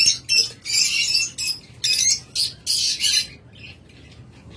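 Caged pet birds for sale give a series of loud, close, harsh squawks and chirps in short bursts, one after another, then fall quiet near the end. Nobody speaks.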